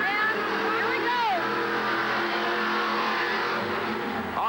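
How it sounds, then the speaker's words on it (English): A Ford-powered, all-fiberglass funny-car-style Jeep revs hard through mud at a 1988 USHRA event in Pittsburgh, its engine rising and falling in rapid sweeps beneath an announcer's running commentary. "Pennsylvania veteran with a Ford power plant in this all fiberglass funny car style Jeep."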